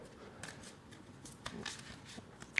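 An oracle card deck being shuffled by hand, giving soft papery riffles and scattered slaps in short bursts, close up, with no voices.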